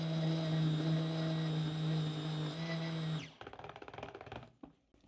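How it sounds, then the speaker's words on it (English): A stick blender mixing cold process calendula soap hums with a steady high-pitched motor whine for about three seconds, then switches off, leaving scattered clattering and sloshing. "I will need a new stick blender."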